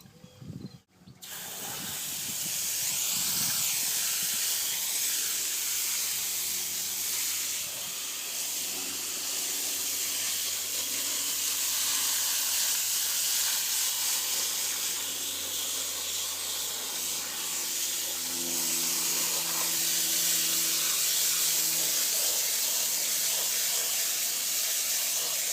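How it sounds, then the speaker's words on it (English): Water spray mists a freshly root-pruned yaupon holly bonsai in a loud, continuous close hiss that runs almost unbroken for over twenty seconds after a brief handling knock at the start, with a faint low hum underneath. "All right, time for a spray."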